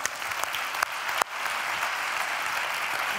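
A conference audience claps continuously at moderate volume, a steady wash of applause with a few sharper claps standing out early on.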